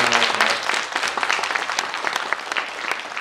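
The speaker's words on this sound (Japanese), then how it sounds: "拍手。" Dense audience applause with scattered cheers fills a Japanese protest rally for evacuees of the Fukushima nuclear disaster, steady and loud throughout.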